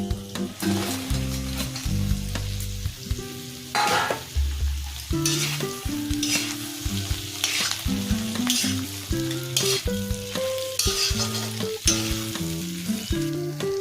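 Fried chicken pakoras are stir-fried in spiced masala with curry leaves, giving a loud close sizzle broken by frequent clanking spatula strokes and scrapes against the pan, with a few louder bursts of hiss and no talking.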